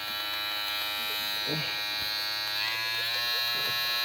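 A steady, high electric buzz from hair clippers running continuously, its pitch shifting slightly partway through as the speed setting changes, with brief faint sounds of someone talking.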